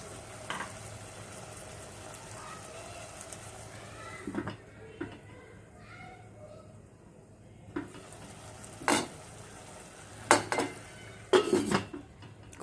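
Laal maas meat frying in a pan, a low continuous sizzle with scattered clanks and scrapes of a utensil stirring against metal, clustering louder toward the end.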